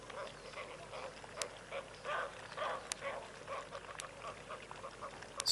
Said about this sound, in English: Spoonbills having a bit of a domestic dispute there, a bit of squabbling.